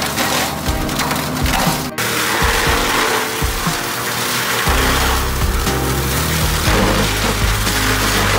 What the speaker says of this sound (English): Olive tree branches and stumps are grinded down into fertilizer thanks to this incredibly powerful grinder tool attached to the front of a forward-moving tractor.